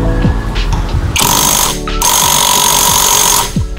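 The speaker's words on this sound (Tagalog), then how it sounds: "Kung naghahanap kayo ng magandang impact wrench, eto na yun guys." Impact wrench tightening a nut on a Honda Click 125 CVT, with loud rattling hammering bursts broken by short pauses, very close and alone without talk.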